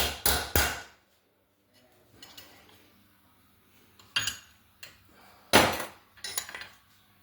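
Sharp metallic hammer strikes on a punch, a few quick blows in clusters separated by pauses, close and loud.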